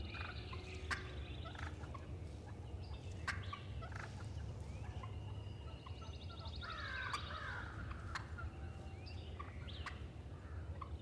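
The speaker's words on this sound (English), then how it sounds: "that's when the turkeys are doing their strutting, doing the yakking, you know, talking to each other" Wild turkeys gobbling and yakking in spring near a river, their calls scattered in bursts over a steady low background rumble, with other birds calling intermittently.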